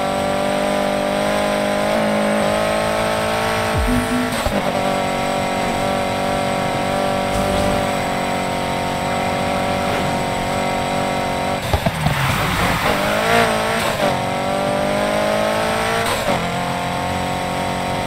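A BMW M3 racing in a video-game police pursuit, a loud sustained engine drone with shifting pitch and a burst of tire squeal partway through, all continuous and close.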